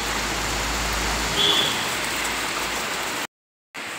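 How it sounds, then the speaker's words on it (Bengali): Steady heavy rainfall pours down outside, with an even broadband hiss that holds at a constant level before briefly cutting out near the end. "বাইরেটা ঝমঝমিয়ে বৃষ্টি হচ্ছে"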